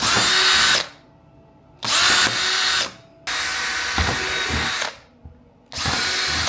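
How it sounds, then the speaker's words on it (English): A power drill whines loudly in four separate bursts while drilling holes in a car headliner for a starlight install, each lasting about a second, with short quiet pauses between them. "Always use a brand new drill bit if you guys are doing this"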